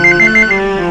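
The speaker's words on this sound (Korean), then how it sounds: "소방서로 전화가 걸려왔습니다." A telephone rings at a fire station late at night, a loud close electronic ringtone warbling in quick repeated pulses over a sustained tone.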